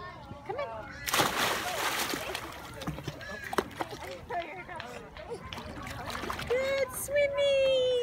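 Young child splashing and swimming in a pool, choppy water sloshes and splashes close by, with adults and someone talking and calling throughout.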